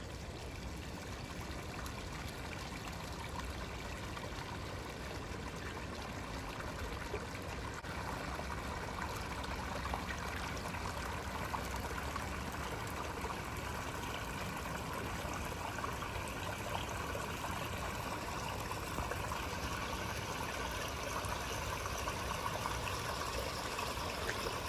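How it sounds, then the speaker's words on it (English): A backyard garden waterfall in New York running continuously, a steady, even wash of splashing and trickling water that holds at a moderate level throughout. "Okay, waterfall is on. Let's hope it works."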